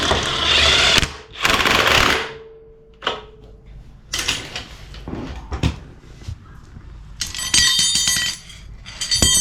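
Work on the front Crown Victoria axle assembly of a 1964 Ford F100 truck, heard as a string of close metallic clanks, clicks and ratchet-like bursts with uneven pauses as a bolt is tightened back up.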